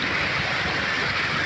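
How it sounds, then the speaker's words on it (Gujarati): Fast-flowing Banas river water rushing under the Deesa bridge, a loud, dense, continuous roar of turbulent water with some wind buffeting on the microphone. "આ તમે પાણી જોઈ રહ્યા છો કેટલો જોરથી કેટલો વેગથી પાણી જઈ રહ્યું છે।"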